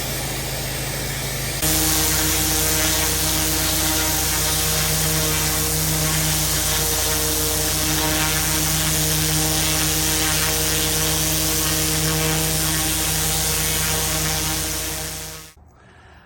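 A pressure washer running a surface cleaner over paving gives a loud, constant engine-and-spray roar that kicks in abruptly after a quieter idle, holds steady with a droning whine, then cuts off near the end; no talking.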